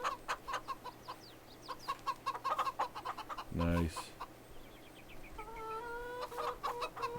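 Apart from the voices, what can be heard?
chickens clucking in a video game, Virtual Homestead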